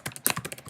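Typing on a computer keyboard, a quick irregular run of crisp key clicks, close and fairly quiet.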